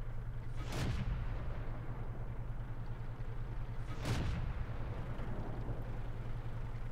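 Two booming cannon shots from an M10 Wolverine tank firing blind in World of Tanks, spaced about three seconds apart over a steady low engine drone, muffled and moderately loud.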